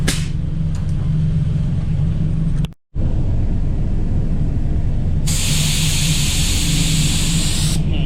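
A Walcom HVLP spray gun lays a drop coat of primer with a steady loud hiss and rumble, briefly cutting out, then a brighter higher hiss joins for a few seconds.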